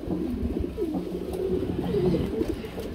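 Pigeons coo in a soft, continuous low warble, several birds overlapping at close range against a steady background hum, with no voices.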